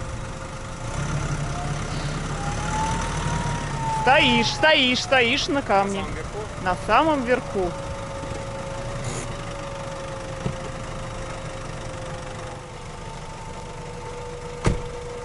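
A parked car's engine idles steadily at a campsite in a rocky valley, a low continuous hum running under a man's and woman's conversation, with a brief sharper knock near the end.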